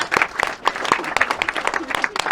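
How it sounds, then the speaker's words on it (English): Guests at a wedding clap in a quick, uneven patter, close and lively, with a few voices and cheers mixed into the short burst of applause. "Big round of applause"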